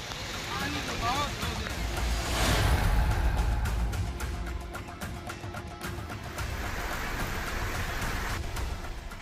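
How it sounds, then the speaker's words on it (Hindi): Heavy monsoon rain pours down on Surat city, a dense continuous hiss of rainfall with splashing water, loud and steady, with a voice speaking over it. "सूरत शहर में भी शुक्रवार तड़के से ही मूसलाधार बारिश का दौर जारी है"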